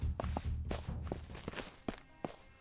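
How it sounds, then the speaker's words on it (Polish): Footsteps in the zombie survival game Surroundead, a quick run of close, thudding steps in a steady rhythm that gradually thins out and fades softer over a couple of seconds, alone and faint overall. "Słyszę jakieś kroki."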